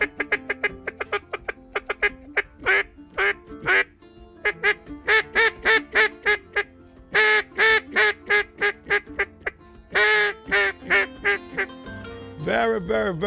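A handmade wooden duck call is blown close up in a long run of short, soft quacks, evenly spaced and then clustered, ending in a lower drawn-out honk, with no one talking.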